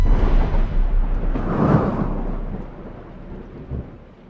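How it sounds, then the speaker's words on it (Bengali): A rainstorm over a rural village brings a heavy rolling thunder rumble over steady rain, loud and close at first, then fading away with a final low thump. "যা বৃষ্টি হচ্ছে, ফসল না কাটলে যে সব ডুবে যাবে"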